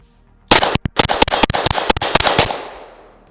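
A .22LR shot shell round fired from a gun, heard as a loud, close burst of rapid cracking reports lasting about two seconds before a fading ring.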